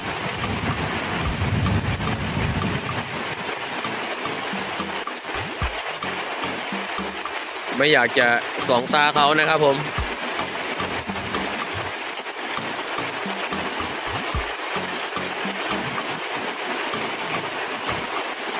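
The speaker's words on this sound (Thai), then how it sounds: "ฝนก็เริ่มจะแรงขึ้นแรงขึ้นเรื่อยๆนะครับ" Rain pours steadily at an elephant shelter during a thunderstorm, a dense continuous hiss that stays heavy throughout, with someone speaking briefly over it partway through.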